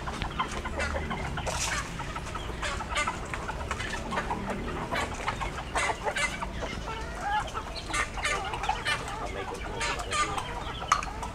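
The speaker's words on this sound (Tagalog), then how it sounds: "Yan, may mga manok din dyan." Many chickens cluck and squawk continuously nearby, a busy overlapping flock with occasional louder calls.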